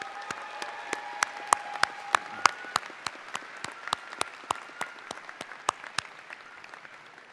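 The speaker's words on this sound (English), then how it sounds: "Please give them a big round of applause" Rhythmic unison clapping at a university fall commencement ceremony, sharp evenly spaced claps repeating steadily, with a sustained tone in the opening seconds.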